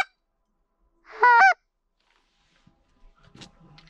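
Geese honking over a field during a goose hunt, one short burst of calls rising clearly out of near silence, followed by faint rustling nearby.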